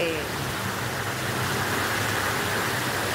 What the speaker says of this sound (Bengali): মুষলধারে বৃষ্টি হচ্ছে